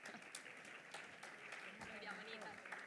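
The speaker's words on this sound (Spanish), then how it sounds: "Un aplauso." Audience applause at an award ceremony for Mediterranean gastronomy honours, a steady wash of clapping hands at moderate distance, fairly quiet, with faint voices mixed in.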